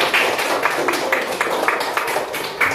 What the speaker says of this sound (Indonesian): Tepuk tangan untuk kelompok biru.